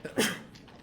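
A single short sneeze bursts out nearby during a backgammon match, sharp and breathy, then fades into quiet room noise.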